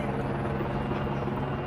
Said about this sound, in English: I hear a helicopter up there.